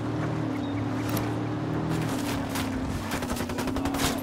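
Rapid gunfire bursts crackle in the Ghost Recon video game over a steady low engine hum, growing denser in the second half.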